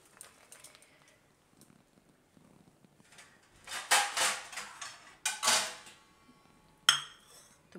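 Makhana chaat stirred in a bowl, giving scraping and clinking bursts of a spoon against the dish, several close strokes in the middle and a sharp clink near the end, with quiet rustling before.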